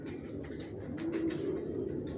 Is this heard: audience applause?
no